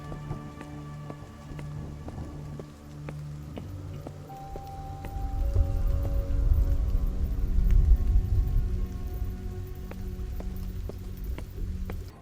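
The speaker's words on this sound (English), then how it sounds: "Combine that with a dark and rainy atmosphere, it really does an amazing job of creating this feeling of dread and loneliness." Steady rain falls in the dark atmosphere of the retro first-person shooter Amid Evil, a constant hiss that swells louder midway, layered with low sustained musical tones.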